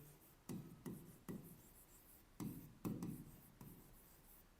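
Chalk or marker writes a math solution on a classroom board, producing a run of short scratchy strokes with brief pauses between them, close and fairly quiet.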